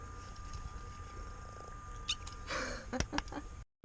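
A cat on the walk up to the fortress above Kotor's old town, Montenegro, purrs softly with a low rumbling texture, while brief faint sounds and clicks interrupt near the end before the sound cuts to silence.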